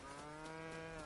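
Cattle lowing in the Lego Fortnite video game, a sustained harmonic moo heard up close and loud, filling the whole moment without any talk.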